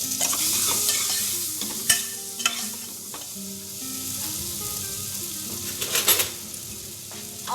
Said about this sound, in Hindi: अब इसमें डालेंगे हम काजू, इसको भी हल्का सा भून लेंगे।